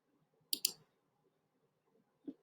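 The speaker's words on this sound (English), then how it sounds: "clicking on the save image icon" A computer mouse clicks twice in quick succession, crisp and close, followed by one softer click after a short pause in an otherwise quiet room.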